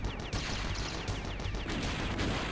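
Explosion darts fire in the PS1 game Blaster Master as a rapid burst of crackling, gunfire-like blasts with descending whistles, densely repeated over a couple of seconds, quiet overall.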